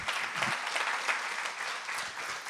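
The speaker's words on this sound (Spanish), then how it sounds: "Un aplauso al Señor, sí." A church congregation breaks into continuous applause for the Lord during a sermon, a dense, even wash of clapping lasting the whole stretch without voices.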